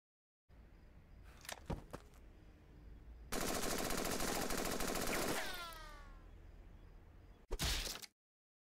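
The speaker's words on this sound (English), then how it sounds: "Rifle." Rifle gunfire in the video game Henry Stickmin: a few sharp isolated cracks, then a sustained loud two-second burst of rapid automatic fire that fades into descending whistling tones, with a final sharp blast at the end.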